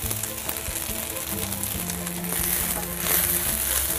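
Mushrooms and beans sizzle loudly in a hot wok, a steady crackling fry that swells near the end.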